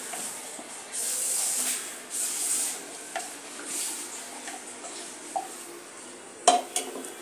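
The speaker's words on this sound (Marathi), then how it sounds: "आता आपण यामध्ये हे सोयाबीनचे चंक्स जे आपण तयार करून घेतलेले आहे हे यामध्ये घालून घेऊया" Soybean chunks go into a bowl and get mixed, with scraping, clinking utensil sounds and soft rustling stirs in irregular bursts, then a couple of sharper knocks near the end; fairly quiet and close, no talking.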